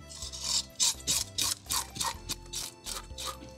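Rapid rasping scrapes repeat in a steady rhythm of short strokes, close and fairly soft, as a blade scrapes scales off a bass.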